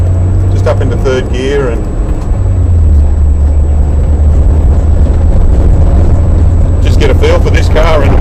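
A Mitsubishi Evo 8 rally car accelerating on a watered, grippy track at Willowbank Park, its engine a loud, sustained low rumble with a brief rising note early on and again near the end.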